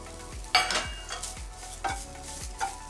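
Grated coconut dry-roasted in a pan for Diwali coconut balls: repeated scraping stir strokes about every half second over a soft, steady sizzle, close and alone.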